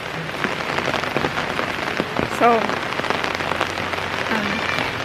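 Steady rain patters on a surface in a constant hiss with scattered drops in Samal, Philippines, while a voice speaks briefly.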